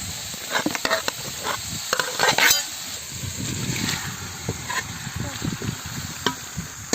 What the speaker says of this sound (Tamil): அடுத்து நம்ம மசாலாவில் ஊற வச்சிருக்க கறியை சேர்த்து நல்லா போட்டு அதில் கிண்ட ஆரம்பிச்சிடலாம்